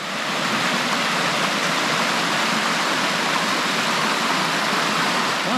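A creek cascading into a swimming hole in Sydney's Northern Beaches gives a loud, steady rush of falling water, close and unbroken, with no voices.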